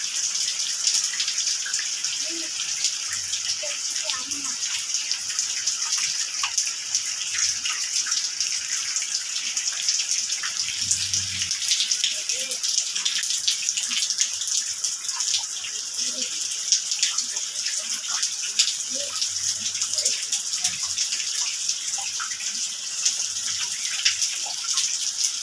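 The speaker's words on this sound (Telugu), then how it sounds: "మొత్తం ఇల్లంతా కురుస్తుంది ఫ్రెండ్స్ వర్షం" Rainwater leaks into a house through broken roof sheets, a constant splashing hiss of water throughout, with a few faint low thumps and knocks under it and no clear talking.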